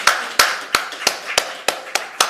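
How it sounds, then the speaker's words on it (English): Applause for panelists at a conference: about eight sharp, evenly spaced claps ring out close and clear, sounding like a single person or small group rather than a full crowd. "Big round of applause for our wonderful panelists."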